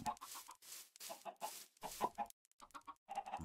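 A dense flock of chickens in Minecraft VR, overlapping clucks and soft squawks in quick choppy bursts, fairly close, with brief pauses and no talk.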